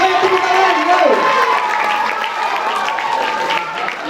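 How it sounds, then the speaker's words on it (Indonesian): Audience applause in a university hall after a poetry reading during a drama performance, dense continuous clapping and crowd noise that stays loud and steady throughout, with a host's voice briefly sliding through at the start. "Semuanya tepuk tangan."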